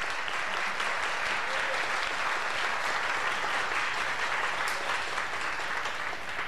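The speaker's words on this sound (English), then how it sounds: "So let's give them a round of applause" Congregation applause at a church service, a steady dense roar of many hands clapping that holds at full strength for several seconds with no voices over it.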